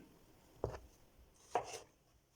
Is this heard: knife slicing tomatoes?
yes